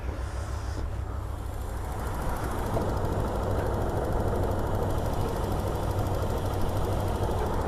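A Hyundai Terracan engine idles with a misfire, a steady low rumble with an uneven, knocking pulse that runs close and continuous throughout, with no talk over it.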